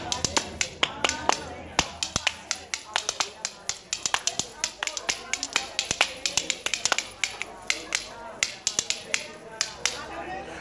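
Metal spoons played as a percussion instrument by Mary Poppiins at Cairo ShimmyQuake 2015: a brisk, steady run of sharp clicking taps in quick rhythm, close and loud, with faint background sound beneath.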